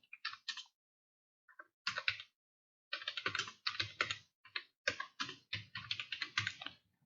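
Rapid bursts of computer keyboard typing while a JavaScript program is written, close and crisp clicking in short runs separated by brief pauses, with no talking.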